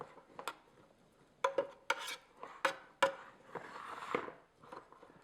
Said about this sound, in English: I'm just going to use a spoon to stir it on in